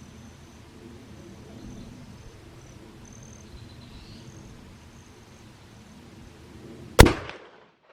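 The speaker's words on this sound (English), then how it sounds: "What follows are two shots with the hunting ammunition." One sharp, loud crack of a .505 Gibbs rifle fired with hunting ammunition, heard outdoors. It follows several seconds of quiet ambient hiss and insect chirping, then dies away quickly.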